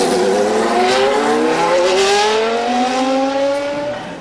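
A Formula One car at the Monza circuit, its high-revving engine screaming close and loud as it climbs through the gears, pitch rising in steps before the sound fades slightly at the end.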